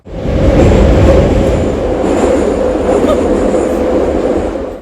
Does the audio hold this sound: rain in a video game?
no